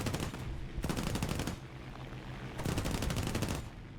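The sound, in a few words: aircraft machine gun shots in War Thunder video game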